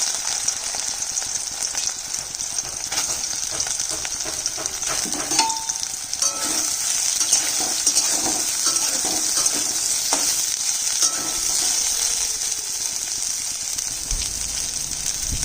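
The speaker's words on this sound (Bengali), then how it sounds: "এখন সয়াবিনগুলো ভেজে নেব।" Washed, squeezed soybean chunks fry in hot oil with a dense, continuous sizzle and occasional stirring scrapes, loud and close for the whole stretch.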